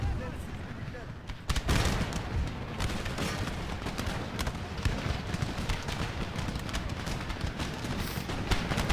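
Dense, continuous musket volleys crackle across a large Empire: Total War battlefield, with many overlapping shots, loud and sustained, a brief lull early on, and a voice speaking over the din.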